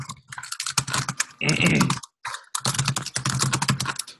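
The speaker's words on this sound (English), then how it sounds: "Hey Ben, would you mind muting while you're typing? Sorry, it's a little loud" Rapid keyboard typing clatters in quick bursts of clicks, close and fairly loud, with brief pauses between runs of keystrokes.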